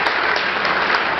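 An audience at a live event applauds the sound crew with dense, steady, loud clapping that holds throughout, with no voices standing out.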